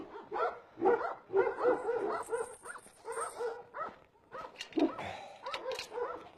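Mongolian bankhar dogs at a breeding facility bark in an uneven series of close, fairly loud barks and yips, mixed with some whimpering.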